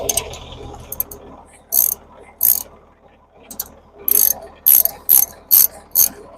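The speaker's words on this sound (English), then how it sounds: "so I have to grab a wrench" Ratchet wrench clicking in short bursts, with quiet pauses between strokes and a few rapid runs of clicks near the end, close and fairly loud.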